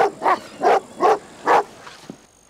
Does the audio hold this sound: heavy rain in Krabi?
no